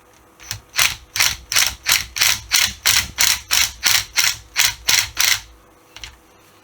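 A hand ratchet loosens nuts on a VW Golf mk2 cylinder head, giving about fourteen loud, evenly spaced clicking bursts at close range, then a last faint click after a pause.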